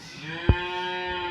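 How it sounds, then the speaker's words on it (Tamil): A cow lows in a single sustained, fairly loud moo on a rural outing, with a short thump partway through and no talking over it. "மாடு வேற கத்தினே"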